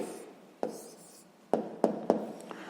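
A pen writes the answer to a sixth-grade maths problem on paper. About five short, scratchy strokes tap out at irregular intervals, close and distinct against a quiet room.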